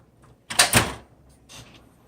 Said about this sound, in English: Then I simply close the door.